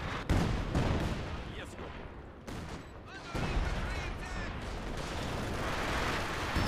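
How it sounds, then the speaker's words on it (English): Mortar barrage in a video game, a dense rumbling run of booms and blasts overlapping in a continuous wash, loud and close, with a bright crack near the start. "Yep, I'm barraging it right now. It's probably gonna die. My guys will shoot their mortar."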